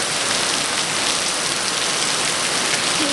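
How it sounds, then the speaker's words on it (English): Heavy rain pours down in Rwanda, a dense, constant hiss of drops hitting surfaces close by, unbroken and loud with no voices. "It's raining really hard."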